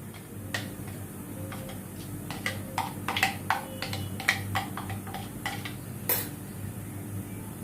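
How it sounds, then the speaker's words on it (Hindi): A scatter of light clinks and taps as chopped onion is tipped out of a kitchen chopper onto a plate, with irregular close knocks and scrapes over a quiet room hum. "अभी ये प्याज मैंने चॉप कर लिया। इसको अभी मैं प्लेट में ट्रांसफ़र करती हूँ।"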